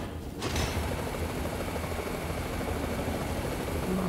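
Steady whirring drone of an unfolding drill spinning like helicopter rotors while gliding through the air in Fist: Forged in Shadow Torch, starting abruptly and holding loud and even throughout.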